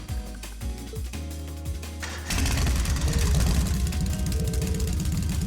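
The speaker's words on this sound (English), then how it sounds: "Right then, first is starting up the engine." Motorbike engine in the Trails of Cold Steel video game cranks with short stuttering bursts, then catches at about two seconds and settles into a loud, steady, rumbling idle that continues to the end.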